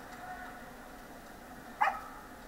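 A terrier gives a single short bark in the judging ring at the Westminster Kennel Club Dog Show during terrier group selection, standing out briefly over a steady crowd murmur.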